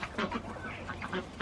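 Ducks in a backyard chicken coop quack in several close, short bursts, with softer calls between them.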